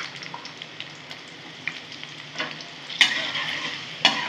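Crushed garlic frying in a pan for a taro stolon dish, a close steady sizzle with a few sharp spatters and spoon scrapes near the end, no voices.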